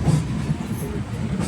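A passenger train rolls along the rails on the Vizag to Chennai run. A steady, close low rumble of wheels and carriage fills the scene without a break.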